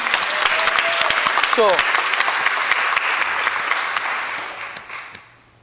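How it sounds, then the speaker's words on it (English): A church congregation claps loudly together, dense applause with a brief rising whoop early on, then fades out; a voice speaks briefly as the clapping dies down. "Clap for Jesus"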